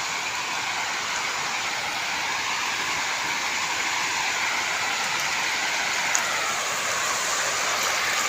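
Flowing river water in a steady, continuous broadband rush, close and fairly loud with no talk over it.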